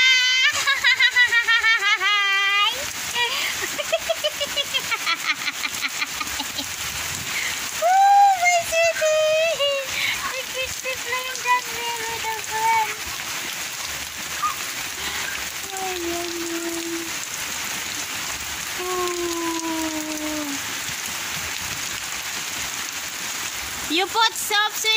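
Steady rain falls throughout during a rainy-day car wash, a continuous patter under intermittent child and adult speech and squeaky high-pitched sounds.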